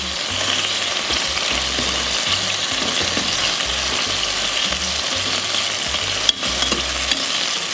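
Meat pieces for Ghormeh Sabzi browning in a pan, giving a steady loud sizzle throughout, with occasional stirring scrapes and one sharp knock near the end.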